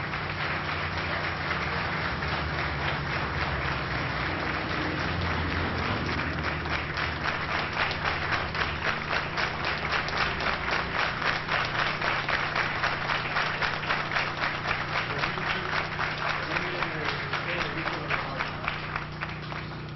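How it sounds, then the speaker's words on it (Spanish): Court magistrates applaud at the end of a full Supreme Court session, a sustained dense patter of many hands clapping in an indoor chamber, steady and fairly loud, with no talking over it. "la silla vacía precedió esta imagen a los aplausos por parte de los magistrados"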